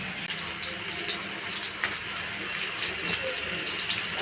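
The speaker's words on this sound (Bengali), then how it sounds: "আর ওইদিকে ছেলেকে বলেছি জলগুলো ভরতে, ছেলে ভরে দিচ্ছে।" Water running steadily from a tap to fill bottles in a home kitchen, a continuous close rushing stream with no breaks, loud and even throughout.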